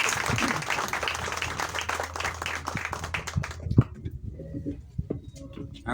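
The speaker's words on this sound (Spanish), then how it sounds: "Vamos entonces a recibir con un aplauso al magíster Lisandro Márquez." An audience at a talk on ancestral legends and myths applauds to welcome a speaker. Steady crowd clapping runs for several seconds, then breaks off, leaving quieter room sound and scattered faint taps.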